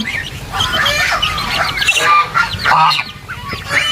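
Geese on a goose farm honk and squawk in a dense, overlapping chorus of many birds, loud and close, with no clear pauses between calls.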